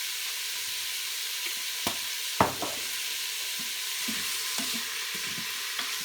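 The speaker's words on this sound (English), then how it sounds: "Just get this meat browned up." Minced meat browning in an Instant Pot on sauté for chilli, an even sizzling hiss throughout, broken by a few knocks and scrapes of a spoon stirring close by.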